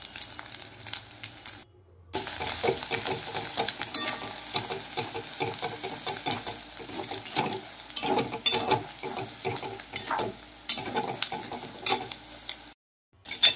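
Ginger paste, turmeric and chili powder fry for chicken dopiaza, a close, constant sizzle with frequent scraping stirs, cutting out briefly near the start and again at the end.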